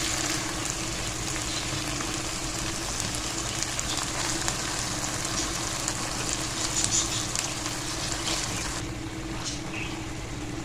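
Mustard greens for sarson ka saag sizzle in a pan of spiced masala, a steady dense frying hiss with a low hum beneath, continuous and fairly quiet.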